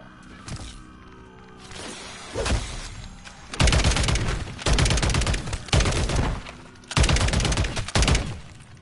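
Bursts of rapid gunfire in a video game zombies mode, a few scattered shots first, then several loud, dense volleys separated by short pauses, close and punchy.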